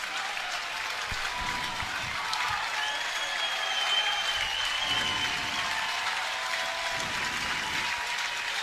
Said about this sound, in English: Chanticleer crowd has come to life now